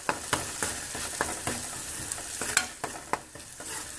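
Onion and ginger paste frying in a pan for egg masala, stirred with a spoon in a quick regular rhythm of scraping strokes over a steady sizzle, close and clear.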